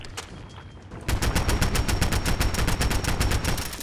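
Rapid automatic gunfire in the video game Fallout 4, a fast steady burst of loud shots that starts after a brief quieter moment and continues without a break.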